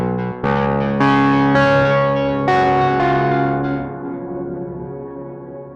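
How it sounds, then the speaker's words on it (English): Synthesizer notes from a free software instrument sent through a Microcosm effects pedal, shimmering chorused layers with a reverb wash; several bright notes enter in quick succession, then the sound thins into a softer, sustained tail. "Let's add some of the built-in reverb to just affect the notes that the Microcosm is adding."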